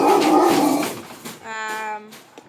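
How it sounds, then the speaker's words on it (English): A dog gives a short whimpering, yelping cry right after someone talks, the sound close by in a room and standing alone for about a second before quieter noise follows. "yeah, that was my dog Snickers."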